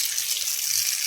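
Bathroom tap running at strong pressure in a flat in Osh, a close, steady hiss of gushing water with no voices.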